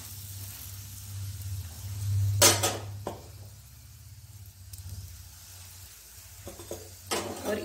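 A paneer paratha fries in desi ghee on a pan, giving a steady low sizzle with a few sharp scraping bursts from spatula or pan handling, close and moderately loud with no talk.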